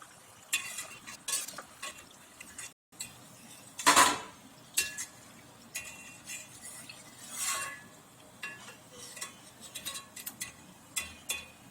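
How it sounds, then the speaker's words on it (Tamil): Thattai rice crackers fry in hot oil, giving a faint crackle under scattered clinks and stirring of a metal utensil in the pan, with irregular louder bursts throughout. "அந்த பொரியிற ஓசை கொஞ்சம் அடங்குனதுக்கு அப்புறமா அந்த தட்டையை எடுத்துடலாம்."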